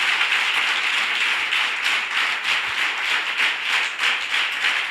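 A congregation claps during church worship, dense sustained clapping from many hands, fairly loud and close, with no talk over it.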